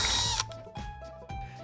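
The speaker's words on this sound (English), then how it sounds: "Then I drill a couple holes before I paint the next color." A power drill whirs loudly as it bores through a container, then stops and gives two short bursts of spinning, each with a rising pitch as the motor spins up.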